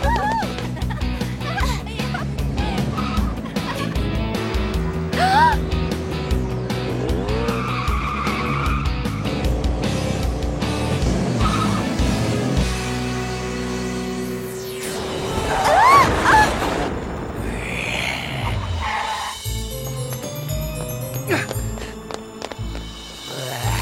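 A car engine roars and tires skid and squeal as it pulls away, with music and noisy effects throughout and a burst of screeching midway.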